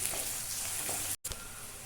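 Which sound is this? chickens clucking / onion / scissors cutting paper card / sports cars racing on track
onion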